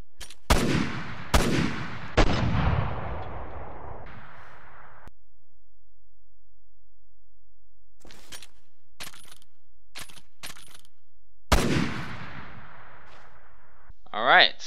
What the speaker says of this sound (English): Alright, so let's showcase it and move on to the next rifle.